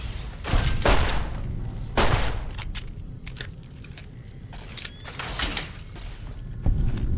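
Bursts of gunfire from the game Fallout: New Vegas, with several loud volleys near the start and again toward the end, separated by quieter stretches of scattered mechanical clatter.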